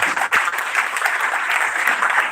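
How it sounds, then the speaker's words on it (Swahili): A church congregation at a live gospel service breaks into steady, dense applause, loud and continuous from start to finish with no speech over it. "Wapigieni makofi yao."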